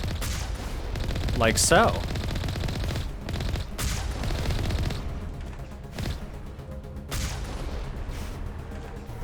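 Gunfire from a vehicle aimed at Geth in Mass Effect, a steady stream of shots and impacts under a brief spoken remark, with a few louder blasts standing out.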